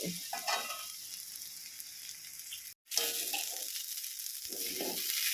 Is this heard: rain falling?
no